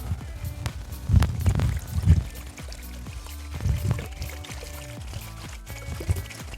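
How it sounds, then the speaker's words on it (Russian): Five liters of water pour into a 12-liter kazan cauldron set over an open fire, a splashing, gurgling stream with a couple of heavier surges, close and fairly loud, with no talk over it. "Для начала в казан отправляем 5 литров воды."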